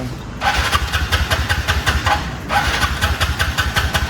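A petrol scooter starts up close by and settles into a rhythmic, pulsing putter, briefly dipping before catching again and running steadily.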